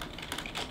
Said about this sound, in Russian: я могу даже печатать всеми 10 пальцами, несмотря на клавиатуру